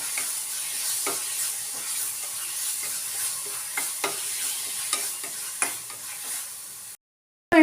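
A spoon stirs and scrapes coriander-powder masala for paneer in a sizzling pan, with steady frying crackle underneath and occasional sharper clinks, ending abruptly.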